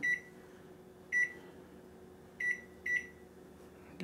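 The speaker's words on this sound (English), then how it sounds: "And now let's see if we can start the microwave." A household microwave oven, running on an OUPES Guardian 6000 power station, gives four short electronic beeps at uneven intervals over a low, steady running hum in a quiet room.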